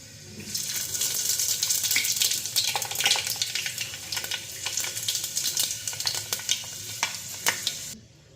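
Dried red chillies and panch phoron spices frying in hot oil in a home kitchen, a bright crackling sizzle with stirring and scraping that holds steady for several seconds before cutting off.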